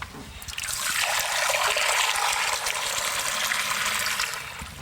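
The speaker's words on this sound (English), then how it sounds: "I need to fill it up just a little bit below the top of the bowl. So I'll get some water." Water pours steadily into a pan for steaming a Christmas pudding. The flow is a loud, continuous close-up trickle and splash lasting several seconds, with no talking.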